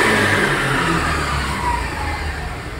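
A second-hand Honda Dio scooter engine runs just after starting, a close, steady mid-pitched motor hum that eases slightly in loudness toward the end.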